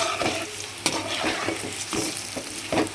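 Banana stem pakoda frying in hot oil, a steady close sizzle with soft stirring taps and clinks of a ladle in the pan, no voices.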